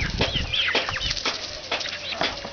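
Red Star pullets from McMurray Hatchery, about ten weeks old, clucking and chirping in a flock, with overlapping soft calls and some wing movement close by.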